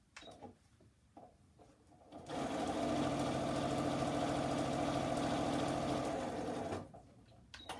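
A sewing machine stitches quilting lines through fabric, its motor whirring in a steady, close, buzzing run for about four seconds, with quieter handling noises before and after.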